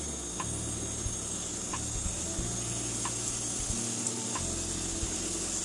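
Doughnuts frying in hot oil give a steady close sizzle with a faint high hiss and low bubbling, broken by occasional soft ticks, with no voices.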